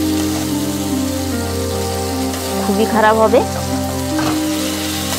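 Ginger frying in a pan and stirred repeatedly with a spatula, a steady sizzle running throughout with louder scraping bursts midway, under a voice speaking briefly near the end.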